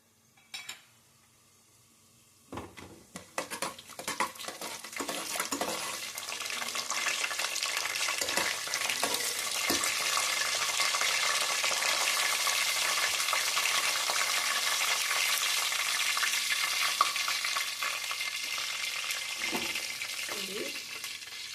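Whole spices for coriander-mint pulao, including star anise, stone flower, cardamom and marathi moggu, sizzle in hot oil in a pan, a steady loud frying hiss after a few quiet seconds, with occasional stirring clinks.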